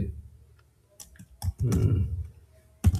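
Keys clatter on a computer keyboard while an email sign-off is typed, a few scattered clicks followed by a quick run of taps and a final pair of strokes, close and fairly crisp.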